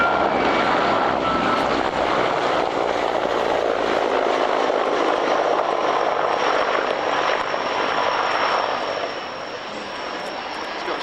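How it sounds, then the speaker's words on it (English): A Mil Mi-24 Hind D helicopter from the Czech Republic trailing smoke roars past at an air show, its engine and rotor noise loud and steady before easing slightly toward the end. "running in from the left with smoke from one of them, the Mil Mi-24 Hind D"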